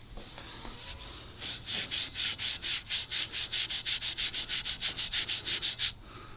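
Steel wool scrubbing faded, rusty chrome on a 1977 Ford F250 bumper, a close, rhythmic run of about twenty quick rasping back-and-forth strokes, loud and even, with no speech.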